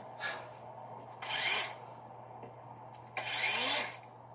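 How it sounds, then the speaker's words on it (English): A compact stealth chainsaw cuts wood outdoors, making two rasping bursts about half a second each against a low steady hum, fairly close and moderately loud. "I have to use the stealth chainsaw."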